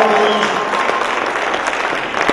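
Crowd in a bodybuilding championship venue clapping for the competitors, a sustained, fairly loud wash of applause with a few scattered shouts.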